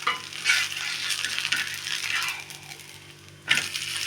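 Bottle gourd roti frying in a little oil on a pan, a steady close sizzle with soft scraping of a spatula and a sharper burst of sizzle near the end.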